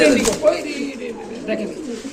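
American Sand pigeons coo softly in low, rolling murmurs, close by, beneath steady conversation.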